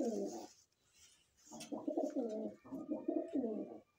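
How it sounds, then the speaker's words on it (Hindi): A Madrasi pigeon, a closed-tailed female, gives a low soft coo, then a longer run of several bubbling coos after a short pause, close and quiet with no voices. "बंद दुम की कबूतरी है"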